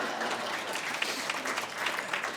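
An audience at a luncheon claps steadily, a dense, even wash of applause filling the room at moderate volume.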